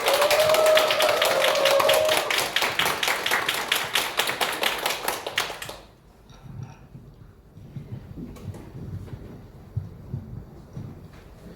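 An audience at a Korean company product-training session claps in a dense burst that turns into rhythmic, evenly timed clapping, then stops abruptly around the midpoint, leaving a quiet room with faint taps and murmurs.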